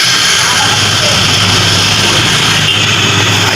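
A Honda Wave motorcycle with a freshly repaired, previously broken exhaust muffler running steadily, a loud, close, continuous engine drone with a bright exhaust buzz.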